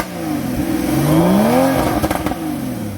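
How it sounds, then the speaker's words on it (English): A Porsche Cayman 981 GTS engine starts and revs up, a close, loud rising whine as the revs climb and fall back, with crackles and pops near the end. "Joe, start it up, give it some gas"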